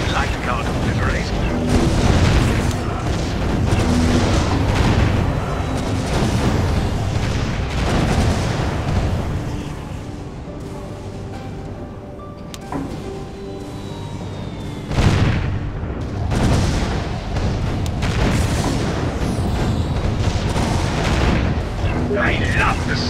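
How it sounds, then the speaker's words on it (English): Cannon towers firing in the tower defense game Defense Grid: a steady barrage of loud booms and explosive thuds mixed with busy game effects and music, while a voice speaks at times. "I love the sound of cannons in the morning."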